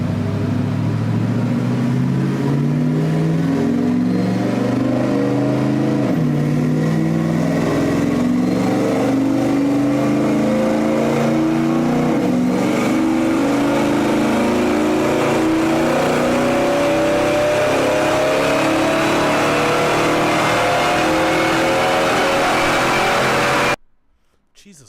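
A supercharged Whipple truck engine revs hard on a dyno during a tune, loud and close, its pitch climbing steadily through long pulls with a rough, whining roar before cutting off at the end.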